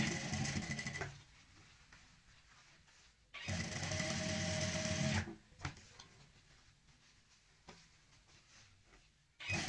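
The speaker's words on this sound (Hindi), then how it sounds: "ऊपर से यहाँ पे किनारे की सिलाई लगा देंगे" A sewing machine stitches the piped edge of a fabric cushion cover, with bursts of fast mechanical whirring separated by quiet pauses and small clicks, close by and with no talk.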